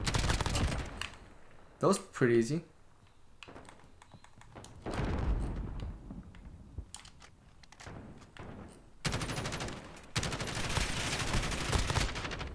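Gunfire in a shooter video game, with loud bursts of shots and thuds mixed with game effects and a player talking over them.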